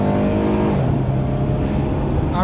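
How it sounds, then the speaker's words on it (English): A 1999 Chrysler 300M accelerating hard on a road, heard from inside the cabin as the engine note climbs in pitch under steady road roar, no talking. "we'll test out the acceleration here"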